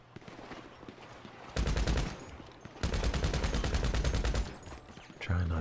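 Gunfire in GTA Online comes in two long rapid automatic bursts with a shorter burst at the end. The shots sound loud against quieter background game sounds.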